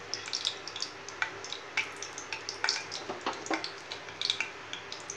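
Sesame oil heating in a pan for Tamil vathal kulambu gives a continuous soft sizzle scattered with sharp crackles and pops, close and fairly quiet, with no talking.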